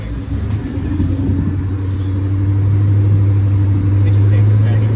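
A Mercedes E55 AMG engine idles with a deep steady rumble that swells slightly as gas is given to air up the suspension, close by under background voices.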